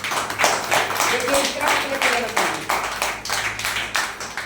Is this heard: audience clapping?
yes